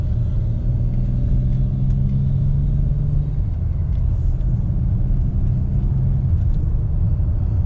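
A steady, loud low engine rumble from inside a Chrysler 300 under acceleration, droning continuously without clear rises in pitch, and no voices.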